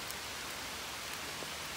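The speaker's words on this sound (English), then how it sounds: "It's raining down that hard, you think we were in a monsoon." Heavy rain pours steadily outdoors on a cool summer day in Scotland, a dense, even hiss of drops on surfaces, faint and continuous with no talking.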